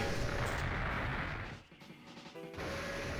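Rapid game gunfire from a single weapon in a NavigatorEX arena battle, loud dense bursts of crashing shots that thin out briefly mid-way before the firing resumes just as heavily.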